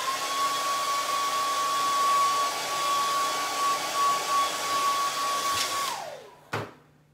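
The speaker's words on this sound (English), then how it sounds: "So I'm gonna cheat a little bit with my little dryer real quick." A small handheld hair dryer blows steadily to dry a fresh patch of paint in buffalo plaid, a continuous close whir with a faint tone that runs for about six seconds, then cuts off and winds down.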